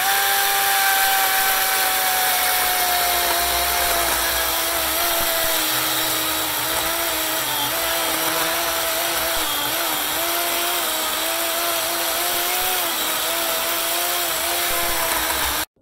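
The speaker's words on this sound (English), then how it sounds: "get to cutting to it with the chainsaw" A chainsaw cuts into an oak log to make blanks, running at a loud, steady high pitch that bogs slightly and wavers as it bites through the wood, continuous until it abruptly stops at the end.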